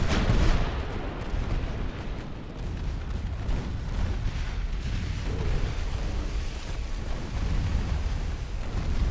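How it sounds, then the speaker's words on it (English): Warship battle in Ultimate Admiral: Dreadnoughts, dense, continuous rumbling of naval gunfire and explosions with a torpedo hit among them, loud and close, booms overlapping without pause. "The torpedo hit starts a fire"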